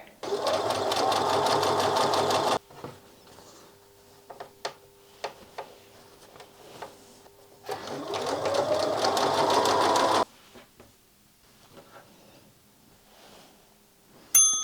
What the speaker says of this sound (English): then I sew all the rows together